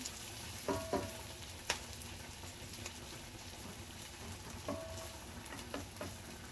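Garlic and onion frying in a pan give a soft, steady sizzle at low volume, with a few scattered clinks of a utensil against the pan.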